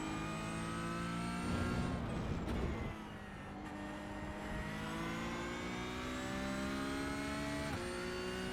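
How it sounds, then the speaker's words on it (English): A car's transmission whines while driving, a steady, high tonal whine over engine drone that rises and falls with the shifts, with no voices. "Hear the transmission whine."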